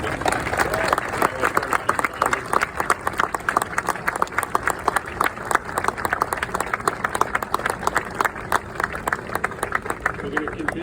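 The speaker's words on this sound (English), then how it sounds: "Round of applause for our Port Authority Police Department." Outdoor crowd applause for a Port Authority Police Department contingent during a 9/11 remembrance walk, dense sustained clapping at a steady level throughout with voices and crowd murmur mixed in.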